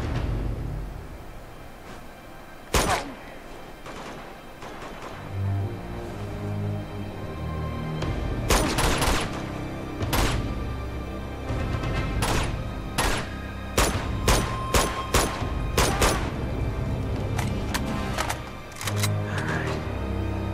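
Gunfire and grenade blasts in the video game Uncharted 2, with sharp shots and bursts scattered irregularly over a rumbling background, clustering into rapid volleys in the second half.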